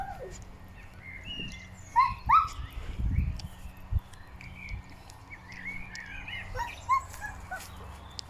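Outdoors, a deer gives a few short, sharp, dog-like barks at a distance, mixed with birdsong over a quiet background.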